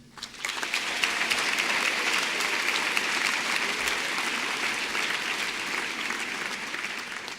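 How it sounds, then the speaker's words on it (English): Applause for a group of 30-year employees at a back-to-school event swells quickly and holds as a full, sustained round of clapping from a large audience. "Another round of applause for this group."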